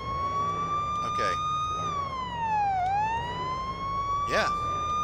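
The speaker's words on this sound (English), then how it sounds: "Can we do a siren without getting pulled over?" Police car siren in the video game Police Simulator: Patrol Officers, one loud continuous wail that falls and rises, with engine rumble beneath and brief bursts of sound at two points, no clear speech heard.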